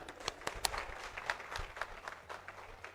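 Scattered audience clapping at a property and housing expo, fairly faint and uneven, with a few sharper individual claps standing out against a low background murmur.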